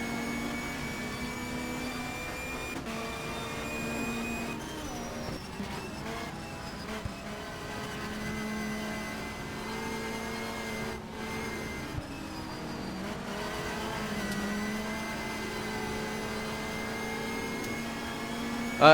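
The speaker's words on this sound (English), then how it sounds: "the sound of the gearbox" Race 07 racing game set on the 1992 BTCC at Mallory Park: a steady engine drone from the touring car, with a high gearbox whine sustained throughout and shifting pitch as the car goes up through the gears.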